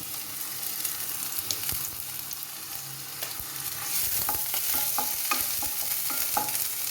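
Onions fry in hot oil for upma, a steady close sizzle broken by repeated scraping stirs and light utensil knocks against the pan in the second half.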